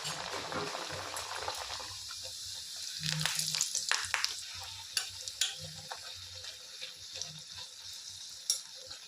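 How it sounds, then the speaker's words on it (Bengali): Luchi frying in hot oil, a soft steady sizzle with bubbling bursts and occasional clinks of a utensil, fairly quiet and close. "তেলটা গরম হয়ে গেছে, আমি লুচিটা দিয়ে দেব।"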